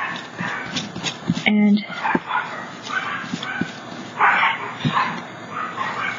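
Small dogs bark and yip in quick irregular bursts from a short distance in a home, with a brief whimper among them and a person talking over the noise.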